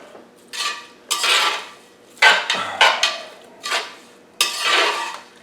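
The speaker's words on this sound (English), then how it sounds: "What we're gonna do now is we're gonna stir this all in." A spoon scraping and clanking against a pot of baked beans in repeated separate strokes, each a bright metallic swish with brief knocks, close and clear, with no talking.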